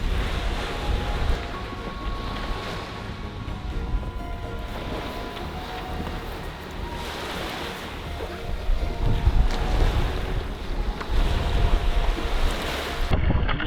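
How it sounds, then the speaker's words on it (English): Strong gusty wind roaring across a microphone while windsurfing on open water, loud and continuous with rushing water and surges that build toward the end, no talk. "everybody's flying outside now, so the wind is coming"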